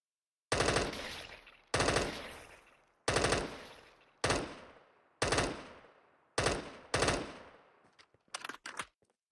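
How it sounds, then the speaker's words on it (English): Bursts of automatic gunfire at the firing range in GTA V Online, about seven loud close volleys each decaying quickly, followed by a few shorter, quieter rapid shots at the end, with no talking. "Oh, he must be in the firing range."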